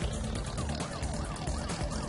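A police siren wails in the trucking video game Trucker, its rising and falling tone sweeping steadily over a dense, loud wash of engine and road noise.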